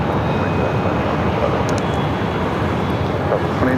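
Steady roar of an Italian-built airliner taking off from runway 7 left, a continuous broadband rumble heard from some distance, with wind noise across the microphone.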